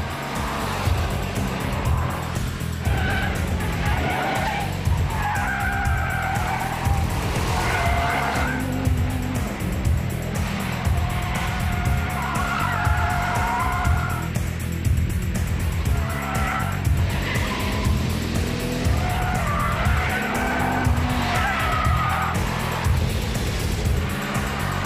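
A Mitsubishi Lancer Evolution with a double-clutch gearbox drives hard through curves at speed. Its engine roars loudly and continuously throughout, with repeated tire squeals and skids rising over it and no talk.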